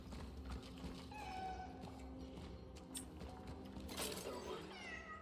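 Cat meowing in the horror video game Cronos: The New Dawn, a few short mews rising over a steady game ambience and low rumble, with a person talking through the clip.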